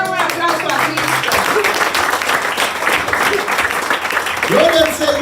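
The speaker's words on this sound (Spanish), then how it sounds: "¿Cuánto le damos un aplauso a Cristo?" A church congregation breaks into sustained applause and clapping, steady and dense throughout, with voices calling out over it near the end.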